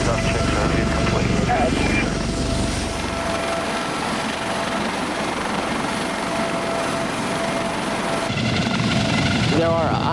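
A helicopter lifts off with a loud, continuous rotor beat and turbine whine close by, holding steady through the takeoff, with a brief change near the end.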